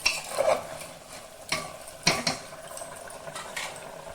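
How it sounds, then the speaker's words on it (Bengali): Mutton pieces frying and being stirred in a pan while cooking mutton curry, with a few sharp spoon scrapes and clanks over a low, quiet sizzle. "এখন আমি মটনটা ভালো করে ফ্রাই করে নেব।"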